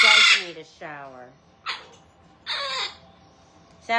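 Pet talking parrots at bath time give several harsh, close squawks and warbling calls in short bursts separated by pauses.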